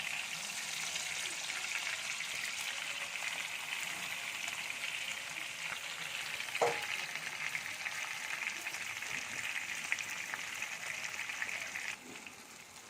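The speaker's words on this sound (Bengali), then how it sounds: "আমার চিংড়িটা ভাজা হয়ে গিয়েছে।" Shrimp frying lightly in a pan for a Bengali shrimp malaikari, a soft, even sizzle that holds steady throughout with a couple of faint clicks, close and not loud.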